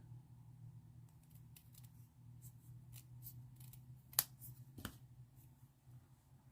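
Scissors snip through paper during a papercraft stamping project, with faint rustling and one or two sharp, close cuts against a quiet background.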